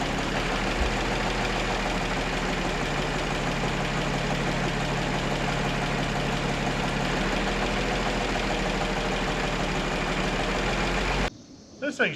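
A Lull four-wheel-drive, four-wheel-steer forklift with a Slant Six engine idles steadily and close by, a low continuous rumble with a slight change in pitch partway through before cutting off near the end.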